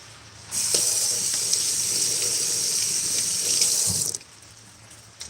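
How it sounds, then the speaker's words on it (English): Tap water runs steadily over a garden-fresh tomato being washed in a kitchen sink, a close, continuous gush lasting about four seconds before cutting off, with no talk. "So I'm going to wash off this tomato, and it is a garden fresh tomato."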